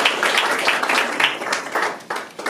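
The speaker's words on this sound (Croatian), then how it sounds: "pa ćemo i njega pozdraviti jednom velikim pljeskom" An audience at a book launch and photography exhibition gives photographer Ivan Nemet a sustained round of applause, steady close clapping from many hands with no pause.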